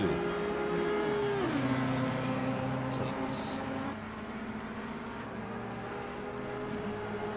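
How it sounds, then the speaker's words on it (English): Two race cars in Assetto Corsa Competizione accelerate hard side by side up the hill toward turn 2 at Bathurst, a loud sustained engine drone with a gear-change drop, under continuous commentary. "And now it is a drag race between two very quick cars up into turn 2."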